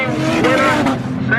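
A wingless sprint car roars along the main straight at a raceway, a loud rising engine whine sweeping past close by, with a commentator's voice over it.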